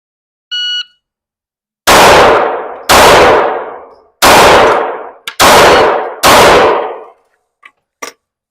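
A small carry-size handgun fired at 25 yards, five sharp loud shots spaced about a second apart, each ringing out briefly, preceded by a short electronic timer beep.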